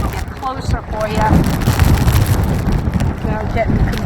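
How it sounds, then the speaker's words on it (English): Strong, gusty wind buffets the microphone outdoors at the Blue Lagoon in Iceland amid volcanic rock in stormy weather, roaring steadily while a person talks over it. "It's so windy."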